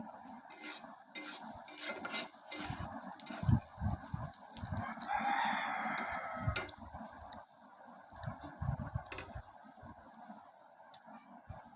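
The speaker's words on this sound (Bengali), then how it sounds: "এখন আমি এগুলোকে ভালোভাবে নাড়িয়ে নিব" Onions are stirred in a pan while fish roe fry is cooked, giving soft scraping and clinking of a utensil against the pan in irregular strokes over a gentle sizzle, fairly quiet and close.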